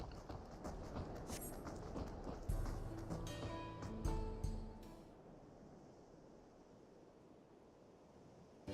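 Mount hooves clip-clop in Final Fantasy XIV over a wind- and surf-like wash of ambience, the footfalls clear at first and then fading out, leaving a faint background hush.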